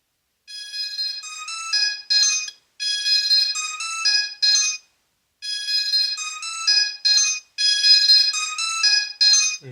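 A Zeblaze Thor 3G smartwatch plays its ringtone at ring volume, loud and close: a bright, electronic melody in four bursts separated by short gaps.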